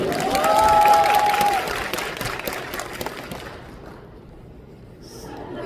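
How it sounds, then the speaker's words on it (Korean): An audience at a T1 fan meeting bursts into applause that swells, then gradually fades to quiet, with some talk mixed in. "박수 주세요."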